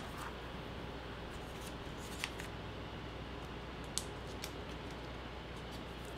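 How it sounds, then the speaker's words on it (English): EK Success honeybee non-stick scissors cutting paper for a handmade card, a quiet close snipping with a few sharp clicks of the blades over a faint steady background hiss. "Scissors I was using are from EK Success. These are the honeybee scissors."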